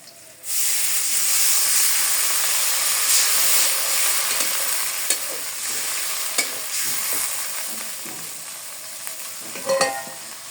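Green chilies sizzle loudly in a hot pan, a steady close hiss that begins abruptly, with occasional scrapes and clinks as they are stirred. No talking.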